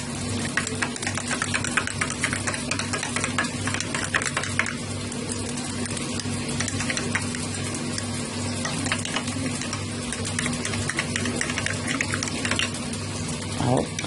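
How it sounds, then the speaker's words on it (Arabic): Yeast being stirred to dissolve for hamburger bun dough, a steady wet swishing and clinking churn that runs continuously at moderate level with a low hum underneath, no talking. "دوبي الخميره كويس"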